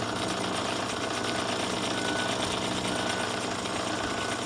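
A Clausing Model 4210 precision plain cylindrical grinder's motor runs with a steady, even mechanical hum and rattle, faint and continuous with no talking.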